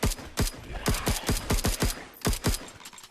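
Pistol fire from the VR space game Wandering in Space: about a dozen sharp, loud shots in a quick, slightly uneven rhythm, each with a short mechanical tail.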